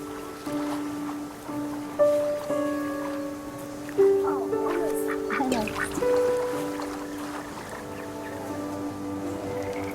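Ducks quacking in the game That Dragon, Cancer, a cluster of nasal calls over steady tonal game music and soft water ambience, with a few louder bursts near the middle.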